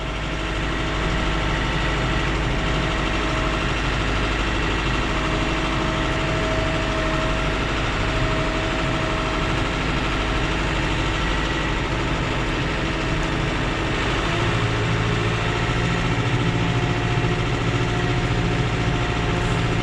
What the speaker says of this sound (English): The one thing I don't understand about these engines is all the cackling and everything that they do at a certain RPM.